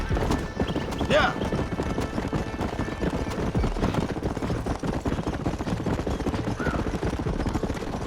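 Hooves clip-clop at a steady gallop in the Western video game Red Dead Redemption, loud and continuous for several seconds, with a brief horse whinny and a busy mix of background game sounds underneath.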